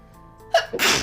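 A single sharp, loud sneeze bursts out after a faint lead-in breath, with a brief intake followed by the forceful explosive release, close to the mic in a quiet indoor setting.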